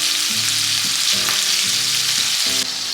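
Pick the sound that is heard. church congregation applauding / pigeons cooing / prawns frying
prawns frying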